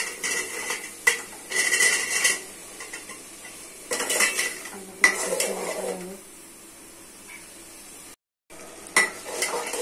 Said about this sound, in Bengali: মশলা কষা হয়ে গেছে, দিচ্ছি আলু